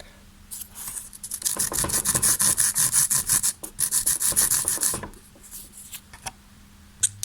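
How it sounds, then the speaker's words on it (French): Rasping strokes of a file working the edge of a small cut piece for a Playmobil obstacle, in a quick run of rhythmic scrapes, a short pause, then more strokes before it stops, close and fairly quiet. "on va tout simplement limer le bord"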